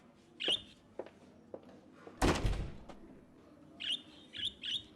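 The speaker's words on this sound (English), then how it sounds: "Keep your fucking bird." A pet bird chirps in short, bright tweets, a few spaced peeps followed by a quick cluster of three, with a brief rustling thump in between, fairly close and otherwise quiet.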